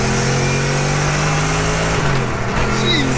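A 750bhp Lexus LS400 drift car accelerating hard in second gear, its engine droning loud and close with a steadily rising pitch and no pause.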